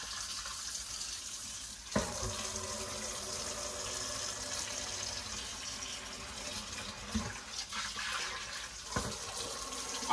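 Water pours steadily into a cooking pot for chicken noodle soup, a continuous rushing splash throughout, broken by a few faint knocks.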